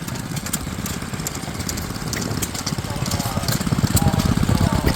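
A vintage stationary engine runs steadily at an outdoor machinery club rally in Kingaroy, a continuous mid-pitched chugging that stays close and grows slightly louder, with people talking over it.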